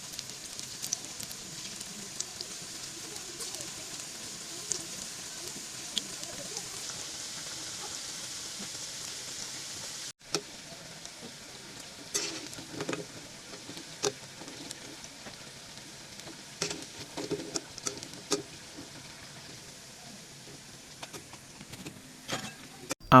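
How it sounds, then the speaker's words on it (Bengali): Potato nimki fry in hot oil, a faint, continuous hiss with scattered crackles that grow busier after a sudden shift partway through, with no talk. "এখন এগুলোকে গরম তেলে ভেজে নিতে হবে"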